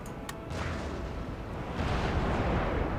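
Cannons fire chain shot in a naval battle in Empire Total War: a rapid crackle of shots, then a heavy rolling boom that grows louder and rumbles on, with no voices.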